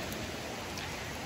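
Rain and wind sweep through a forest as a steady, dense hiss of falling drops, heard briefly with no speech.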